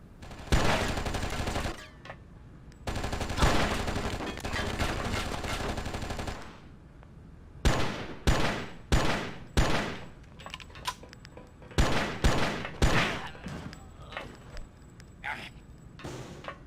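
Gunfire from a gun in the PC game Oni, with long sustained automatic bursts followed by a series of short separate shots and brief rapid volleys, loud and close.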